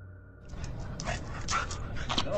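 A dog pants in quick, breathy bursts that grow louder and closer after a quiet start, with faint whimpering sounds mixed in.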